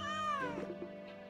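A cat in the mobile game Homescapes lets out one clear, close meow that fades into a soft trailing murmur.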